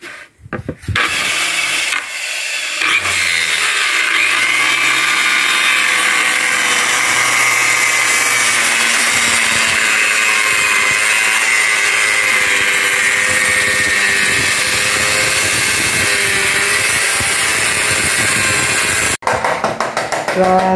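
A power tool cuts through wood while a door is being built, giving a steady, loud, rasping whine that holds for about sixteen seconds after a brief start and then cuts off abruptly near the end.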